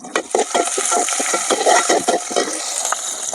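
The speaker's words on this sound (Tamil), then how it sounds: "வெந்தயம் போட்டு இப்போ தாளிக்கிறோம்." Hot oil sizzles and crackles as fenugreek seeds are tempered for fish curry, with light scraping and clinking from a utensil against the pan.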